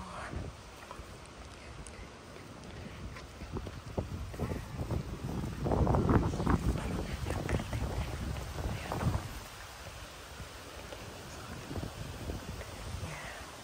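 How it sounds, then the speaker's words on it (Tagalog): Strong wind buffets the microphone in a continuous roaring rush that swells louder midway and then settles, with no voices heard. "Lakas ng hangin."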